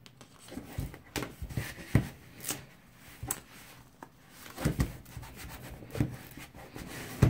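Cricut transfer tape being rubbed down onto a tumbler with repeated scraping, scratchy strokes and a few louder bumps, close and fairly quiet with no talking.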